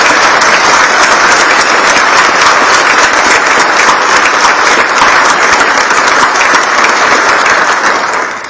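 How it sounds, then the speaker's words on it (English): An audience at a border security expo applauds, a loud, dense and steady wall of clapping that holds for several seconds and begins to taper off at the very end. "I'd like to give them a round of applause."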